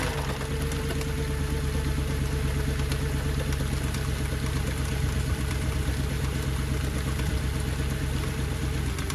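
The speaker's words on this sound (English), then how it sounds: "the engine is running rough, as you can probably tell." A car engine running rough idles close by with a heavy low rumble and an uneven, lumpy pulse, running continuously without voices.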